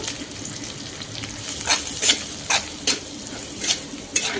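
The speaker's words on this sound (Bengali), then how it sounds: "ভেজে নেওয়ার জন্য কড়াইয়ের মধ্যে সাদা তেল দিয়ে দিচ্ছি পরিমাণ মতো" White cooking oil sizzles steadily in a wok as whole mustard seeds and cumin fry for a semolina snack, with a spatula scraping and stirring in regular close bursts over the constant hiss.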